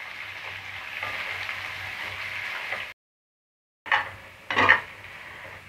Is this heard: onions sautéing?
yes